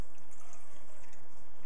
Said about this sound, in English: And first I'll just add a bit of water to the bowl